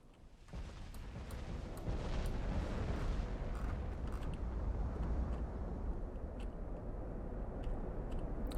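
Naval gunfire from warships in Ultimate Admiral Dreadnoughts, a sustained heavy rumble of distant big-gun salvos, dense and continuous, with scattered sharper cracks over the low roar.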